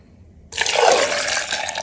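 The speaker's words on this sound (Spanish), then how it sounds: "Le vamos a agregar agua" Water pours suddenly into a blender jar holding tomatoes, onion and garlic, a steady, close, splashy rush after a brief quiet moment.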